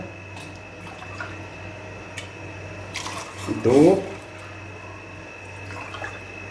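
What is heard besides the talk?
pouring water into a saucepan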